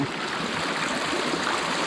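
Spring water from Mount Banahaw pours steadily in a close, full rushing stream, a constant broadband splash with no voices over it.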